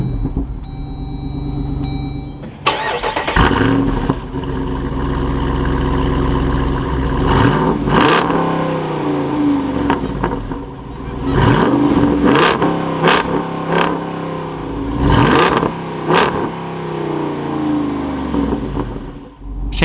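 A 2022 Jeep Wrangler Rubicon 392 V8 cranks and catches with a loud bark, then settles into a deep, rumbling idle nearby, broken by several sharp throttle blips.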